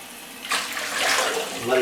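Water runs from a tap into a bathroom light fixture glass held under it, a close rushing splash that grows fuller and rises slightly in pitch as the glass fills.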